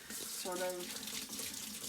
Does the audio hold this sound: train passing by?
no